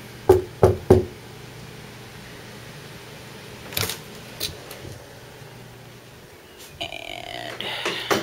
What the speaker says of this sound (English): Well, all the time I knock to go in.